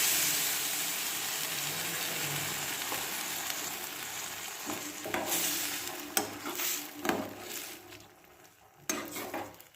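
Prepared sauce poured into a pan for chilli soybean, crackling into a steady sizzle under repeated stirring and spoon scrapes, with louder bursts of activity toward the end.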